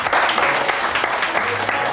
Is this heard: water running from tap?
no